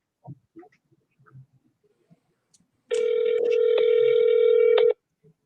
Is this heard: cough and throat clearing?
no